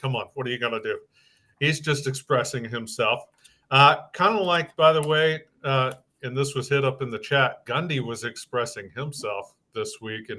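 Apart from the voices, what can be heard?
No distinct noise like a dog, phone or traffic.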